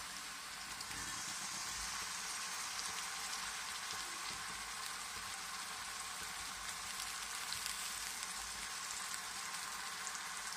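Tomatoes frying in a pan with eggplant curry, a steady, even sizzle like light rain that holds at a constant, fairly soft level throughout.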